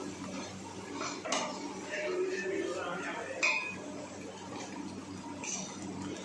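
Ground onion being stirred into a cooking pot for a Kabuli chana curry, with a spoon scraping and clinking against the metal pot in a steady, close, moderately quiet rhythm.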